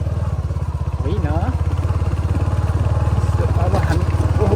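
Motorcycle engine chugging steadily up close on a rough stony road in Nepal, a rapid pulsing thrum with rattles, while a person speaks and exclaims over it.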